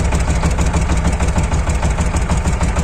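Shifeng 240 minitractor engine idling close by, a loud steady throbbing diesel rumble with an even rapid pulse and no voices.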